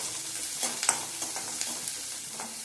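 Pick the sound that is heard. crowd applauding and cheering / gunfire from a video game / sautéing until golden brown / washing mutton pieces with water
sautéing until golden brown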